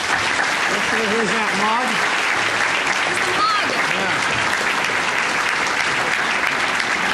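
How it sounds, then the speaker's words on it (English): Dense, steady audience applause at a board of directors gathering honoring the Chicago environment commissioner fills the whole stretch at close range, with a voice speaking briefly over the clapping early on. "Let's give her a round of applause."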